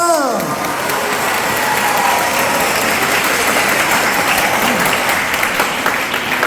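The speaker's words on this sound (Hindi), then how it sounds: "जोरदार तालियां।" A church congregation gives loud, dense applause that is steady and continuous throughout, with a voice briefly audible at the start.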